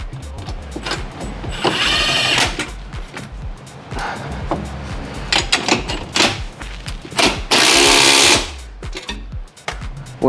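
A power tool tightens down the mount for a lifted six-passenger Club Car Onward step, running in several loud close bursts of whirring and ratcheting, separated by short pauses and small clatters.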